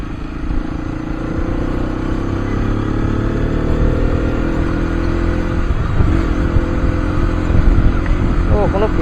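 A Hero Xpulse 210 motorcycle on a test ride, its engine droning steadily up close with slight throttle swells, wind and road rumble mixed in, while a voice speaks briefly over it.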